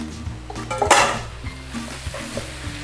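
Mushrooms frying in butter in a pan for beef stroganoff, a soft sizzle with scraping and clanking as a utensil stirs them around, one louder burst of frying near the start and a low background hum.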